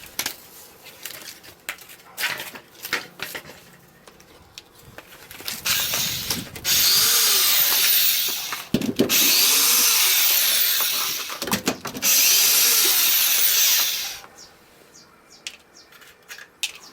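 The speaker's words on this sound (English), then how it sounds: "Forget the light, I need a drill." A power drill whirs in several long, loud bursts during a trailer hitch installation, with shorter starts and stops and tool clatter between them.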